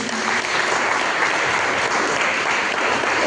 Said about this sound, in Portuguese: Eu quero que você dê uma salva de palmas ao Senhor.